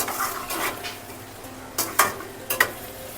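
Coriander stirred by hand into a stuffing frying in a pan for stuffed bombil (Bombay duck) fry, with soft scraping and a few sharp clinks of utensil on the pan over a low sizzle.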